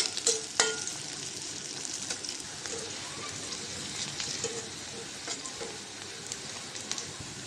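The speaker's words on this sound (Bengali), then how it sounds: "পেঁয়াজটা ভেজে নেব, সাথে কাঁচামরিচও।" Chopped onion and green chili fry in hot oil in a pan, giving a steady close sizzle with brief clicks and crackles from stirring scattered through it.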